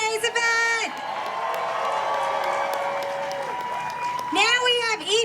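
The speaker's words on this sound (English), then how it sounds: "can we give a round of applause to Sophia, one of the organizers of today's event?" A crowd applauds and cheers at the No Kings protest rally at Auditorium Shores in Austin, a steady wash of clapping that swells for several seconds, with a voice speaking over the start and again at the end.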